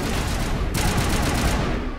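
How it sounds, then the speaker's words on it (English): Grenade blast and gunfire in the Mass Effect video game, a steady loud wash of rapid shots with a sharp burst midway, no talk. "Okay, another grenade."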